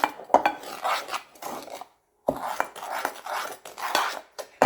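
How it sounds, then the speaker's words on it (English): Utensil clinking and scraping in a bowl while flour is mixed for banana pudding, in short irregular bursts with a brief pause midway, close up and alone. "Now, I'm going to mix this together."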